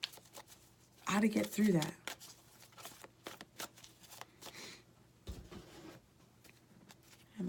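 A deck of tarot cards is shuffled in a dense, riffling burst lasting about a second near the start, followed by softer card handling while a person talks over it.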